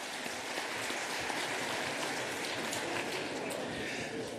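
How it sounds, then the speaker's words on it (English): Large audience applause in a conference hall at the APEC summit in Peru, a steady, distant-sounding wash of many clapping hands, fairly faint and even. "Ladies and gentlemen, please, another round of applause for President Xi Jinping of China."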